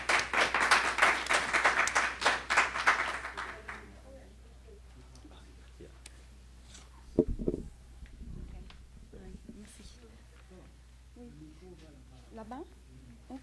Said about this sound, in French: Si vous pouvez applaudir, s'il vous plaît.